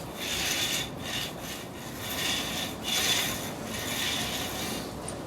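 A spike roller works over wet epoxy screed flooring, giving a soft, continuous rasping and rubbing sound that rises and falls in gentle waves with each pass. It is close by and fairly quiet, with no talk.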